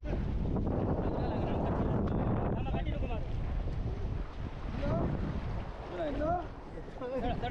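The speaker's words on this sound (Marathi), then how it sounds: "लाटेची कमाल कॅल्क्युलेशन्स करत बोटीला धक्का देत होते" Traditional rapan fishing boat being pushed out through sea waves at Dandi beach, Malvan, with loud wind rushing over the microphone and surf washing, while people talk and call out over it.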